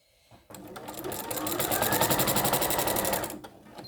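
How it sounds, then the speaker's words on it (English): A sewing machine stitches evenly around the edge of a cloth pad in one steady, close run of about three seconds, starting abruptly and then stopping, with no talking. "I'll go around the whole pad really evenly so that it is all sewn with the right seam allowance all the way around"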